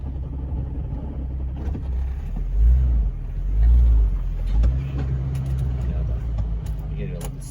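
A Jeep 4x4 engine rumbles low while rock crawling off-road, swelling in two heavier revving bursts before settling back to a steady idle, with people talking over it.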